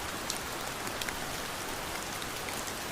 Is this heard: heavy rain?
yes